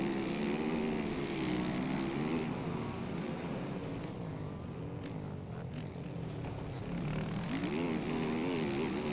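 A motorcycle engine in a video game drones steadily with rising and falling revs, loud and continuous, the whine swelling again near the end.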